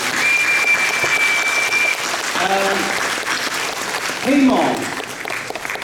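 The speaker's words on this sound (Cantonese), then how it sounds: "我哋要俾啲掌聲大師" Sustained audience applause fills the theatre at the curtain call of a farewell Cantonese opera performance, steady clapping throughout with someone speaking over it.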